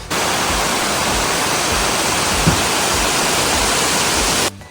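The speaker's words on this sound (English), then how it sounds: "The trail then dips and cuts back under the beautiful wide cascading waterfall." Pearl Shoal Waterfall, a wide cascading fall, roars as a dense, continuous rush of water, loud and close, steady throughout before cutting off abruptly.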